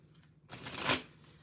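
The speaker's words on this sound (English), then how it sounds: "let's get some shuffles on this and see what else we can find out about this" Oracle cards being shuffled: one soft, quick riffle of paper cards, close and quiet, lasting about half a second against a near-silent background.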